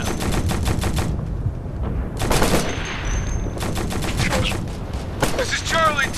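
Automatic gunfire in the military shooter game Operation Flashpoint Red River comes in loud, rapid machine-gun bursts separated by short pauses, close and dense.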